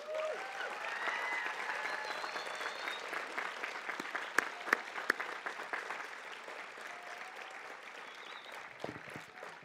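A graduation audience at Pacific Union College applauds its educators, sustained dense clapping across a large hall, steady and moderately distant, with a few louder nearby claps and faint crowd voices.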